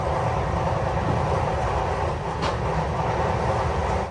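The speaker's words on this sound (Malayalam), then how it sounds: "100 km/h സ്പീഡിന് മുകളിലാണ് ട്രെയിൻ ഇപ്പോൾ പോയിക്കൊണ്ടിരിക്കുന്നത്." Vivek Express passenger train running above 100 km/h on the Kanniyakumari–Dibrugarh route nearing Hojai station, a steady loud rumble and rattle of wheels and carriages heard from on board, continuous throughout.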